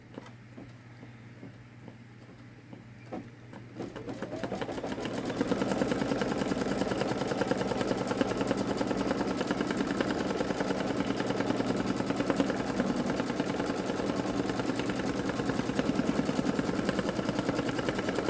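A Babylock Solaris embroidery machine runs a placement stitch on metallic vinyl, starting up after a few quiet seconds into a steady, loud, continuous mechanical whir with rapid needle pulsing that holds to the end.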